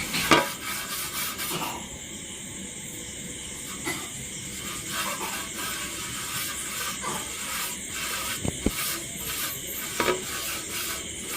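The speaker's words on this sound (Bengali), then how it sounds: "এবারে এই পাত্রটার মধ্যে আমি একটু ঘি মাখিয়ে নেব" Ghee being smeared around the inside of a pot with a soft, steady scraping and rubbing, faint and close, with occasional light clinks of the utensil against the pot over a hiss of background noise.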